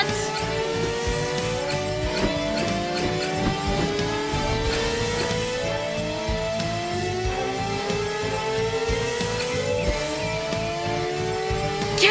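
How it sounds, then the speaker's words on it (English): A vehicle circling in donuts in the PAW Patrol Rescue World game, its engine revving steadily with rising and falling pitch sweeps, continuous and close against game music, with no talking. "we can still ride around and do some cool donuts"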